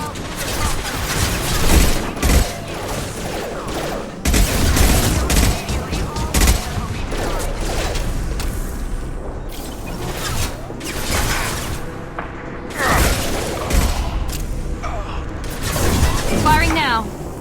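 Heavy gunfire fills a fight against the Krogan in Mass Effect 2: sustained volleys and rapid bursts crackle close and loud, with booms and whooshes between them and voices shouting over the battle.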